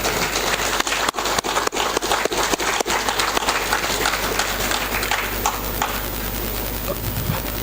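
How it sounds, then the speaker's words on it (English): Loud sustained audience applause for St. Lucia Fire Service officers at a chief's parade, a dense wash of many clapping hands with sharper claps early on and a faint low hum beneath. "So can we give them a big round of applause?"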